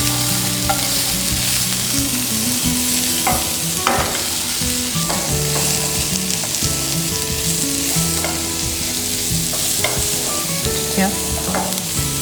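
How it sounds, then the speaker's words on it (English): Colorful vegetables sauté in a hot pan, a loud continuous sizzle broken by frequent scraping and clattering stirs of the utensil against the pan. "There are some colorful vegetables which we are just sauteing for the presentation."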